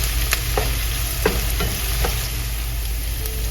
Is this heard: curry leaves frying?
yes